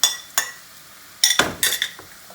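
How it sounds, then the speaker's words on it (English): Uncooked rice poured straight into a pan of half-cooked zucchini for a risotto, giving a few sharp, close clattering bursts with quiet pauses between them. "you add your rice directly in the pan"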